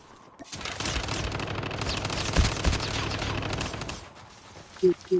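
Sustained automatic gunfire in a Call of Duty Mobile battle royale match, with a dense rapid rattle of shots for several seconds, a few heavier bangs, then a couple of short bursts.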